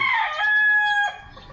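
A dark-legged backyard rooster crows loudly and close by, one long drawn-out call that fades after about a second.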